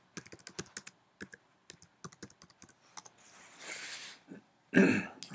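Keystrokes on a computer keyboard, a quick uneven burst of close clicks, then a pause, a short rustle and one louder knock at the end, with no talking.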